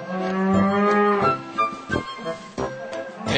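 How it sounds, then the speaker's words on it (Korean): Young dairy cows, mostly under two years old, mooing on a Pyeongchang dairy farm on their first day out to pasture; several loud, drawn-out moos follow one another at close range with no talking. "오늘 처음 방목할 20마리는 대부분 2년 이하의 어린 젖소들이다."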